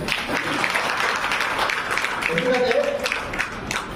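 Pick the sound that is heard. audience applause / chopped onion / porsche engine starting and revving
audience applause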